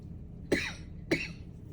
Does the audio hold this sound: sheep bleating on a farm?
no